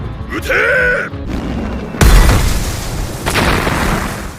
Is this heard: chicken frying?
no